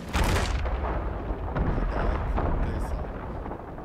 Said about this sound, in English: They all exploded.